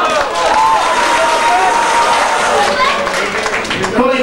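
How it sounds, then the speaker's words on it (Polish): Wedding guests applaud during a party game, a brisk burst of clapping and crowd noise with voices and laughter mixed in, loud and close throughout. "Duże brawa dla"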